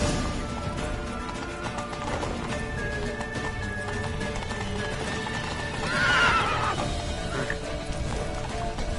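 In the video game The Witcher 3: Wild Hunt, hooves clatter in a fast gallop while a horse lets out a shrill whinny midway, all loud and close with a busy rumbling background.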